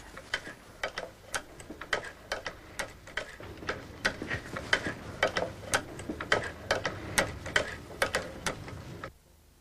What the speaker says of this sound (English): This machine's actually a cobbler's machine used for sewing leather.